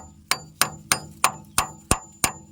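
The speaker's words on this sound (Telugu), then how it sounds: "ఇటు సైడ్ అయినా బోల్ట్ పెట్టి కొట్టు" A hammer strikes a bolt eight times in a steady, quick rhythm, each blow a sharp, close metallic crack with a brief ringing decay and no talk.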